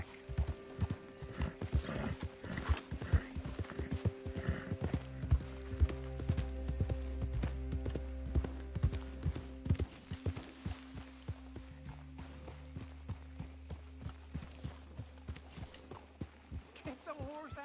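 Horse hooves clip-clop in Red Dead Redemption 2 as a steady walking rhythm with continuous game music and background ambience.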